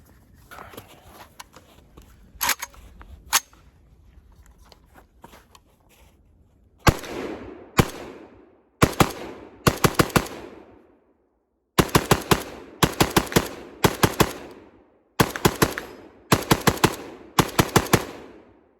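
AK rifle with a CMC trigger fired outdoors, a few scattered shots and then rapid bursts of sharp, loud reports in quick clusters separated by short pauses.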